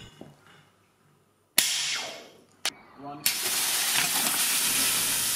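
A 3D printed spring-and-screw mechanism punctures a CO2 capsule seal on a model rocket plane, with sharp snaps followed by a loud, steady rushing hiss of escaping gas.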